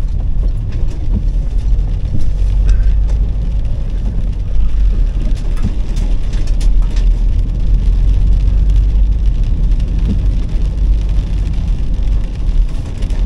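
A car's engine hums low and steady from inside the cabin as it drives slowly around a roundabout with a load of cakes in the boot, constant road rumble without talk.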